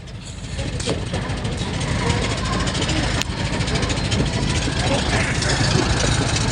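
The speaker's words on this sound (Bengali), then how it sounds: "কিভাবে নৌকা চালায় দেখেন, কত কষ্ট করে ঢেউর ভিতরে চালাইয়ে যাত্রীগুলিকে পার করতেছে।" A passenger boat's engine drones steadily as it crosses a choppy river at Narayanganj Bandar ghat, a continuous loud rumbling hum with someone talking over it.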